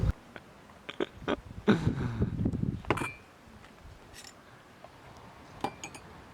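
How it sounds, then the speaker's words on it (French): Dishes clink and clatter near at hand with splashing water, irregular knocks of glass and cutlery, then quieter scattered clinks. "On fait la vaisselle. Tu fais la vaisselle. Ouais, je fais la vaisselle."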